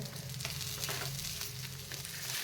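Oats and vegetable tikkis sizzle in a little oil in a pan as they are flipped, a dense continuous crackle with soft scraping touches throughout.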